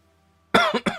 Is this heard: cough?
yes